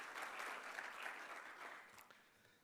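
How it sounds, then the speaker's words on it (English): An audience gives a round of applause at a live-streamed digital rights event, steady clapping from a group that fades out gradually, quiet and slightly distant. "I think they deserve another round of applause."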